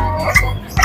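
A German shepherd barking twice, loud and close, two short sharp woofs with a gap between them.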